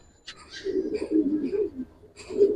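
Giribaz and coloring pigeons at a seller's, giving low throaty coos in two bursts, close and fairly loud, with a few faint background sounds.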